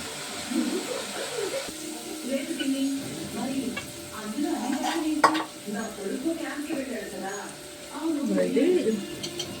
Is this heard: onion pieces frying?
yes